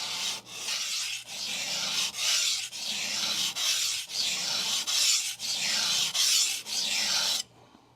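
A knife edge is drawn across a Sun Tiger GC220 grit sharpening stone to remove the burr, a series of about ten close, even, gritty scraping strokes in a steady rhythm before stopping.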